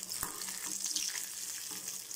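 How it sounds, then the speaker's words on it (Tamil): Cashew nuts with asafoetida sauté in a pan with a steady, soft sizzle and light crackle, close by and alone for a couple of seconds. "ஸோ இந்த கேஷ்நட் வந்து லைட்டாக ப்ரௌன் ஆகிற வரைக்கும் நம்ம வந்து வதக்கிடலாம்."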